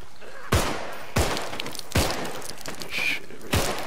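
Gunfire in the Contagion video game: five evenly spaced, punchy shots ring out one at a time over a steady background hum, each with a short echoing tail.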